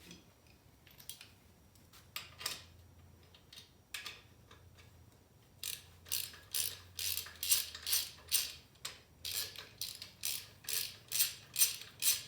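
A ratchet wrench loosening main cap bolts on an LS engine short block, first scattered clicks, then steady bursts of rapid ratcheting strokes growing louder and more regular, close up with no speech.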